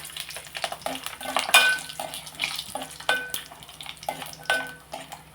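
Vadiyalu, sun-dried lentil crisps, dropped into hot oil in a home kitchen, giving soft intermittent sizzling with scattered stirring clinks and pan knocks, close and moderately quiet.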